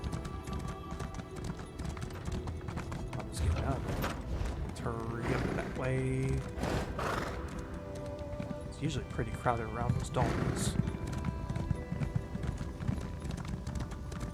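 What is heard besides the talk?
horse galloping in video game Elder Scrolls Online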